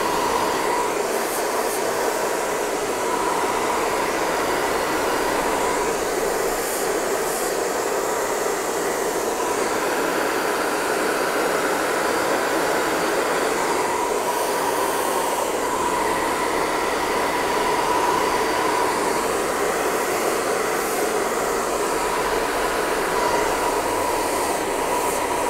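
A hair dryer fitted with a nozzle blows steadily and loudly for the whole stretch while a beard is blow-dried with a round brush, a constant broadband rush with slight shifts as the airflow moves.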